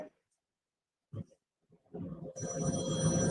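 A mobile phone rings after a stretch of quiet and scattered sounds, its tone entering loud and steady over a low background rumble.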